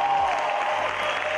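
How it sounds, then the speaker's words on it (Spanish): Brief burst of audience applause at a Spanish-language awards show, a dense wash of clapping and crowd noise that stays steady for its short length. "realmente solicito un aplauso de corazón"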